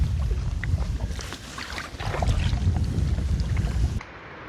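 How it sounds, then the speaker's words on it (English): Wind buffets the microphone on Ullswater lake in winter while kayaking, a loud, gusty rumble mixed with water splashes and paddle knocks, easing off abruptly near the end. "That wind's just pushing me along nice and gentle"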